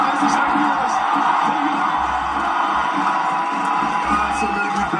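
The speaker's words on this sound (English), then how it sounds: "these fans are going crazy for you now" Fans at a Fortnite FNCS LAN event cheer and shout as one sustained roar, a steady wall of crowd noise lasting the whole stretch with rhythmic low thumps pulsing beneath it.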